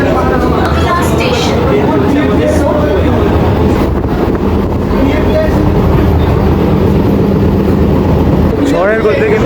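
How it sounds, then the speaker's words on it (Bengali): An AC EMU local train runs at high speed between Dum Dum Junction and Sodepur, giving a loud, steady rumble and roar of wheels on track throughout, with brief squeals near the end. "এবার বন্ধুরা দমদম জাংশন থেকে ট্রেন ছেড়ে দিল, দুরন্ত গতিবেগে কিন্তু ট্রেন ছুটে চলেছে।"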